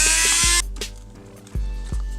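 A Dremel rotary tool cuts through PVC pipe in one loud, high-pitched whining burst that stops abruptly, followed by a few sharp knocks and handling sounds.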